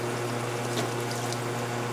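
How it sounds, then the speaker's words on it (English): A CO2 pump on a carbonated water machine runs in a steady, even hum with a faint watery hiss over it, constant and close for the whole short stretch. "you pull the valve until you hear the CO2 pump come on"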